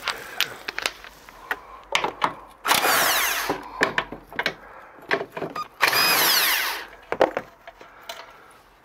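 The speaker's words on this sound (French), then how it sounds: "j'accélère un peu le mouvement en prenant la clé à choc" Impact wrench rattling off bolts during a Peugeot 206 1.4 HDi clutch replacement, two sustained hammering bursts close by, separated by clicks, clanks and tool handling in a workshop.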